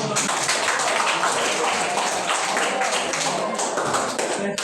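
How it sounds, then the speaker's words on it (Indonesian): A classroom group claps together in a dense, continuous burst of applause that stays loud and steady for several seconds before ending. "Tepuk tangan."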